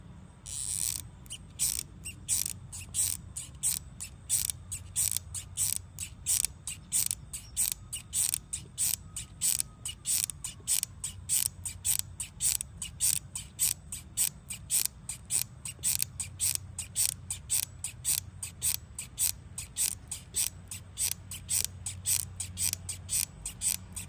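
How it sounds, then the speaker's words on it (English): A hot glue gun's trigger clicks steadily as glue is fed through for a dent-pulling repair, a fast, even train of sharp mechanical ticks and ratcheting clacks running close and continuous with no talking. "Take your glue gun, turn it on, little green light, let it heat up, and then as you feed it through"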